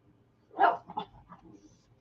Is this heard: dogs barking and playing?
yes